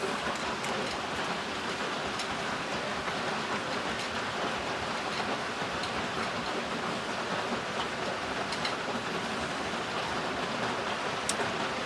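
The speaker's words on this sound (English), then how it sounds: "And yes, it's raining." Dense, steady hiss of rain falling outside a workshop, continuous and fairly loud with scattered crisp drop ticks and no voices.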